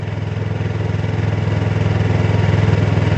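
A motorcycle engine rising gently under light throttle at low speed, its steady pulsing putter close and loud, climbing slightly in pitch and volume with no talk over it.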